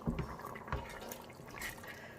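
Boiling hot water poured into a pot of rice for Punjabi yakhni pulao, a faint, close, gurgling, splashing flow with a few drips, heard alone.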